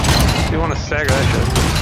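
Gunfire in the VR shooter game ArmZ comes as loud, dense rattling bursts that nearly fill the moment, broken briefly by a voice speaking over the shots.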